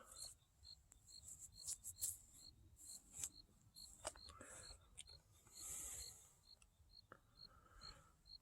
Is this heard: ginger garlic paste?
no